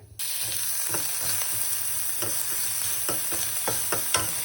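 Chopped onion with a pinch of salt fries in a pan for a tondekayi palya, giving a loud, even sizzle with regular stirring scrapes and taps throughout.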